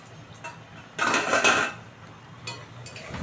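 A pot lid lifted off a pan of simmering green mango and fish curry with ridge gourd and potatoes, giving a brief metallic clatter and scrape, close and fairly loud, then quieter kitchen clinks.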